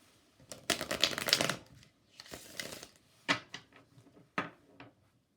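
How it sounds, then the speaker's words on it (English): Oracle cards from a Chakra Oracle deck are drawn and shuffled, papery riffles and flicks in a few short bursts, close and soft with no talk. "I'm going to pull two cards from the Chakra Oracle."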